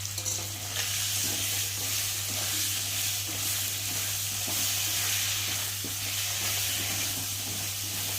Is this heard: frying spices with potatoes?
yes